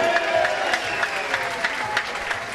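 Applause from a crowd, a dense, steady patter of many clapping hands at moderate loudness, continuing without a break for a couple of seconds.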